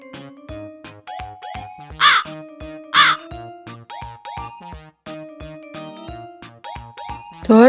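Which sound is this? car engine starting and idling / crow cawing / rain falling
crow cawing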